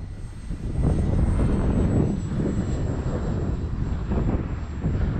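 A Tower Hobbies ASW 28 RC glider flying in strong gusty wind, heard as a constant low roaring rush of air with swelling gusts and a faint thin high whine running through it, no talking.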